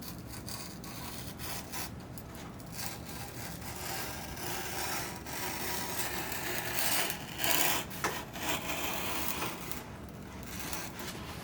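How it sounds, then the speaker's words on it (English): A blade cuts a bevel along the bottom of a strip on a model F/A-18 Super Hornet fuselage, giving a steady, close scraping and rubbing that swells slightly near the end, with no talking. "I'm going to flip it over and cut a bevel along the bottom"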